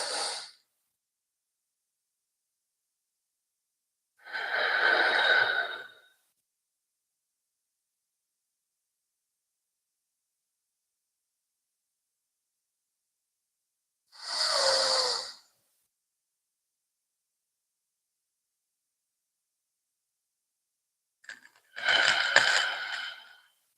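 Deep breaths during a guided respiratory breathing exercise, four separate long, airy breaths spaced several seconds apart with near-silence between them, close and clear.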